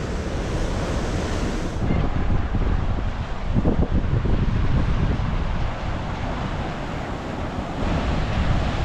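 Ocean waves break on a quiet Sydney beach on a weekday, producing a continuous broad roar of surf with wind buffeting the microphone throughout and no talking.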